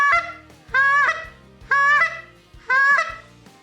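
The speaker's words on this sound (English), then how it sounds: "I was blowing this goose call just like" A zinc goose call blown crudely by a beginner, four separate nasal honks with short gaps between them, loud and close with no talk.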